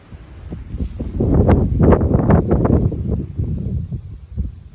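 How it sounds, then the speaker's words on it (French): Night gusts of south-east wind swell up, peak and fade again, loud at the middle and quieter at either end, with seeds blowing about. "Ces bourrasques de vent là."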